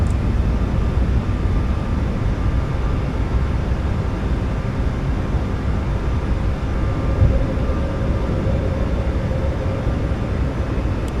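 A simulated iFly 737 MAX 8 departing in Microsoft Flight Simulator 2024 makes a steady, loud, broadband jet engine roar that holds constant throughout, with no talk.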